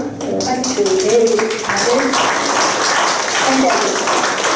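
An audience applauds at the opening ceremony of an international academic conference on tax scholarship. A voice speaks over the start, then a dense patter of clapping carries on steadily to the end.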